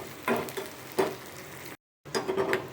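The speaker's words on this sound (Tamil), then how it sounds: "வெங்காயம் கொஞ்சம் நல்லா வதங்கட்டும்." Chopped onions and curry leaves sauté in a pan for masala pidi kozhukattai, soft sizzling broken by scraping stir strokes, with a brief dropout to silence before the stirring resumes.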